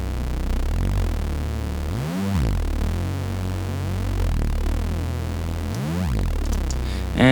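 Synth bass with gliding pitch bends, layered over a deep sub, rumbles steadily with warbling swoops that sweep up and down, played alone and fairly loud.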